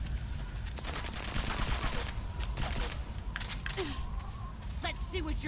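Rapid bursts of gunfire and clattering shots in the Metal Gear Solid 3 video game, continuous and busy over a constant game soundscape.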